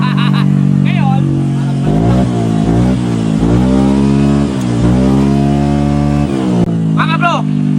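A tuned engine revs hard against a rev limiter set around 7,000 RPM, the pitch climbing and bouncing repeatedly in loud, close bursts with a steady underlying drone throughout.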